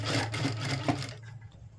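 A sewing machine runs at steady speed, stitching the hook-and-eye strip onto a blouse, its rhythmic buzz holding for about a second before cutting out and leaving faint quiet.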